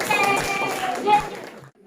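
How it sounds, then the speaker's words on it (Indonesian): Brief scattered hand clapping from a small group in a classroom, lasting under two seconds with some voices mixed in, then fading out abruptly. "Oke, tepuk tangan, yuk."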